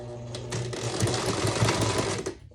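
Sewing machine stitching a ribbon-backed needlepoint belt, running steadily for a couple of seconds with a rapid, even mechanical whirr and rhythmic needle clatter, close up, no talk.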